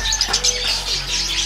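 Young pet birds about three to four months old chirp and tweet continuously in a steady, busy chorus of high calls, fairly close, with no talking.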